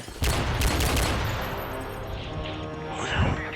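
Gunfire in the video game Modern Warfare 3 crackles in a quick burst of loud close shots, followed by fainter game effects and a rising whoosh.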